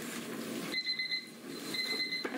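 A classroom timer alarm sounds in two bursts of steady, high electronic beeping, the second starting after a brief pause, close by over a low room murmur.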